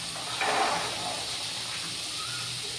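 Previously fried chickpeas dropped into hot oil with green chillies, a brief burst of sizzling hiss that settles into a quieter steady frying crackle.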